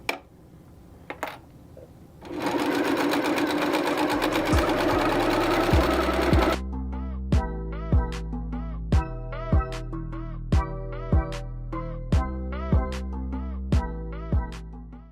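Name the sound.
sewing machine stitching quilted placemat strips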